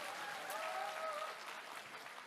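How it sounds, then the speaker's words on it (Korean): An audience at a Democratic Party joint campaign rally in Daegu–Gyeongbuk claps steadily throughout, a dense even wash of applause with a faint murmur of crowd beneath. "박수 한번 쳐주십시오"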